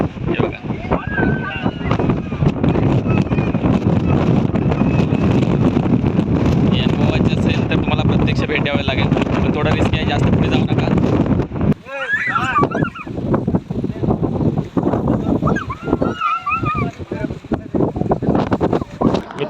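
Strong wind roars steadily against the microphone with rushing water behind it at a waterfall at Machal hill station, Ratnagiri, where the wind blows the water back upward; it eases briefly while a voice speaks over the blustery noise.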